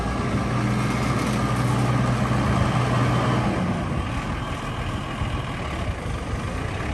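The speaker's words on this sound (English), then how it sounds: "just a really nice looking tractor, nice running" A 2004 Case IH MXM155 front-wheel-assist cab tractor idles steadily nearby, giving a constant low diesel rumble with a faint whine over a broad outdoor hiss, with no talk.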